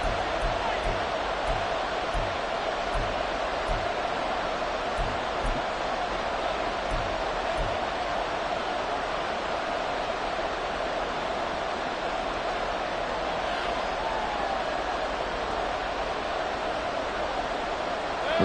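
A stadium crowd at a Bucs versus Colts football game roars as a steady, dense wash of noise that holds evenly for the whole stretch, with faint thumps early on.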